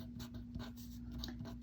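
A pen writes a Korean letter on paper, making faint, close scratchy strokes in short repeated bursts over a low constant hum. No one speaks.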